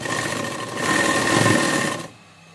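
A sewing machine stitches burqa fabric panels in a fast, steady whir that rises briefly, then stops near the end, close and alone.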